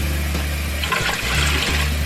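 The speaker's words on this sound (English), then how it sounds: "I'm gonna put them in the pot, add water." Tap water runs steadily into a cooking pot of dried beans, a continuous watery rush with splashing near the middle, close by and alone.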